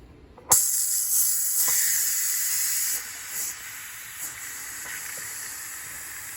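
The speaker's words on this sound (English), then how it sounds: "Whenever you're ready to check your food in the pressure cooker, you're gonna move this lever here to the steam." Steam bursts from a pressure cooker release valve while beef stew cooks inside, starting with a sudden loud hiss that settles into a steady, sharp rush, easing slightly after a few seconds with brief spurts.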